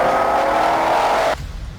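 A Shelby GT500's 5.2-liter supercharged V8 roars loudly and steadily up close, then cuts off abruptly near the end, leaving a quiet low rumble.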